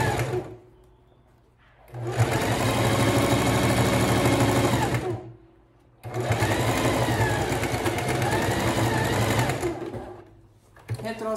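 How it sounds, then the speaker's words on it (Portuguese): A sewing machine runs a straight seam on a cushion cover in two long, steady, loud bursts separated by brief pauses, close up with a whirring motor drone. "E segue, é uma costura reta, bem tranquilo de fazer."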